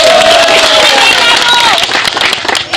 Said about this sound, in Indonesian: Tepuk tangan untuk Pak Rifki.